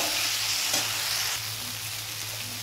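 Fried pumpkin stir-fried with spices and a splash of water in a pan, a loud continuous sizzle with light scraping that eases slightly partway through.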